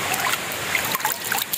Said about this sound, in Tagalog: galing yung tubig dito tapos nagpo-flow papunta dun sa baba